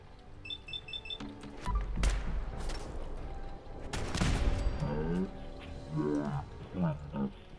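Turret gunfire in the Fallout 4 video game crackles in a few rapid bursts amid loud game effects, a roaring creature-like noise and a voice talking over it.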